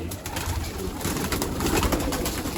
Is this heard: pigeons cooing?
yes